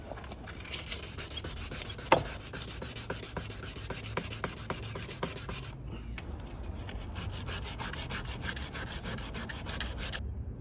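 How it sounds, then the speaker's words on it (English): Coarse 100 grit sandpaper rubbing along the plastic edges of a Golf GTI Mk5 bumper, a steady rasping scrub with quick repeated strokes, close and continuous, with a brief pause near the middle. "you're going to sand down the edges of them with some very aggressive 100 grit"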